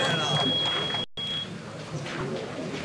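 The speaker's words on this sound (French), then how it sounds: "on a entendu le buzzer" A thin, steady electronic buzzer tone sounds during a pétanque match at the 2018 Mondial la Marseillaise, running about a second and a half with a brief dropout, under crowd murmur and commentary-like talk.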